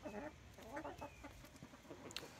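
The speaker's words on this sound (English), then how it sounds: "He's my oldest rooster right now." Rhode Island Red rooster clucks and murmurs close by, a few short bursts with farmyard background noise.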